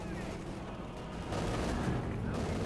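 Distant battlefield gunfire and grenade blasts roll together in the World War II strategy game Company of Heroes 2, a continuous muffled rumble of shots and booms that grows louder halfway through.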